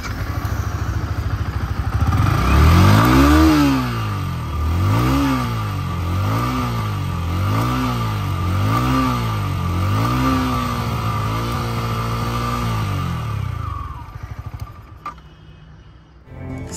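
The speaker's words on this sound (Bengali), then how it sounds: "এরপর বাইকটার সাউন্ডটা একবার শুনে নেওয়া যায়।" A 2023 Yamaha R15 M motorcycle engine revs repeatedly in a steady series of rising and falling blips, loud and close, with no talk, before settling to idle and cutting off near the end.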